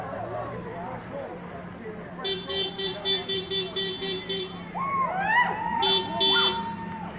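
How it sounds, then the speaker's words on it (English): Car horns honk repeatedly from vehicles driving past an outdoor protest in Windermere, Florida: a rhythmic series of short blasts, then longer sustained and rising tones, close and loud over street noise and crowd voices. "So you see people are just driving by, they're honking."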